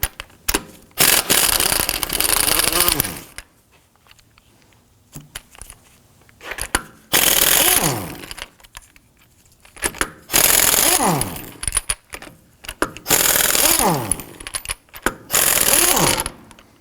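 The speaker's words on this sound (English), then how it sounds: "Using a 19mm thin wall socket, I'm going to go ahead, loosen and remove our lug nuts and our locking key." Lug nuts loosened and removed with a 19mm thin wall socket on an air tool on a 2005-2009 Subaru Legacy, several loud buzzing impact bursts separated by quieter gaps, close by.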